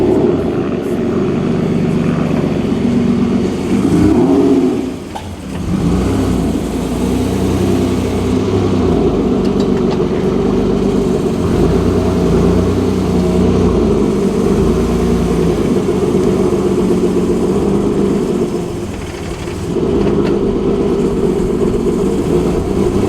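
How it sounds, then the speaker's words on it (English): A car started after two months sitting unused on its original battery idles steadily, a loud continuous low engine drone with a brief dip partway through and no talking. "Let that car idle for a little bit because it's been a minute since it's been on"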